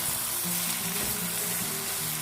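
Steady loud sizzle of boiled pasta tossed into vegetables frying in a pan, with a few faint stirring scrapes and no voices.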